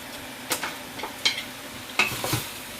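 Meat being stirred in a hot pan: a few scattered scraping strokes over a faint, low sizzle, fairly close and soft, with no voices.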